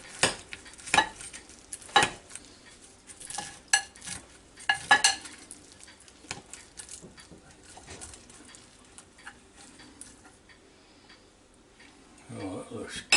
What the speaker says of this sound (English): take this spoon here and see if we can get some out